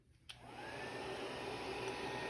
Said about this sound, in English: you can use a hair dryer and just gently